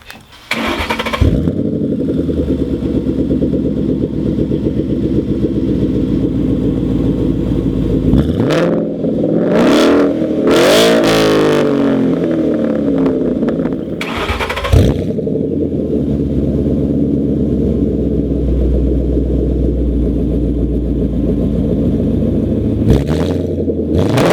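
A 2013 Ford Mustang GT V8 with an off-road X-pipe idles with a loud, deep rumble, then revs sharply several times, the exhaust roaring and crackling before settling back to a burbling idle.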